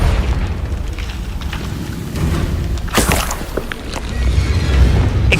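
A Confringo blasting spell explodes in Hogwarts Legacy, a Harry Potter video game, with a rumbling boom and a sharp burst midway over continuous roaring game noise. No one talks.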